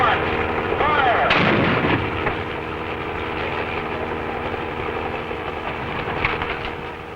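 A rocket-propelled ejection seat from a North American Aviation F-107 fires in a test, a sudden loud blast followed by a long roaring rush that holds steady for several seconds and then tapers.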